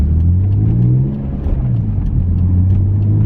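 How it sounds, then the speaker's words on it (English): BMW E46 M3 with a naturally aspirated engine, held at a steady, loud rev with a brief dip in the middle. The tone is mid-pitched and droning, with no voices. "It's definitely like it's naturally aspirated, revs out to 8 grand, screams."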